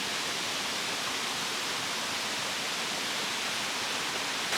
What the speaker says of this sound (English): this camera's probably not doing that waterfall justice